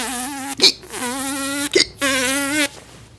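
A voice imitates a fly with hiccups, making a buzzing, whining hum cut by three sharp hiccup-like breaks, close and fairly loud, alone.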